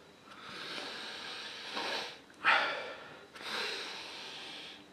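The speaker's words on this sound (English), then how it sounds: "Let's give it a swirl and a sniff." Someone sniffs a glass of whiskey barrel aged double scotch ale, with a few breathy inhales and exhales close to the mic, one sharper snort-like intake in the middle.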